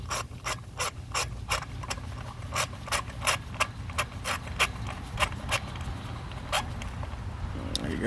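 A ratchet turns a spark plug in the engine of a 2010 Honda Accord, giving a rapid series of sharp metallic clicks in quick bursts, close and clear over a low hum.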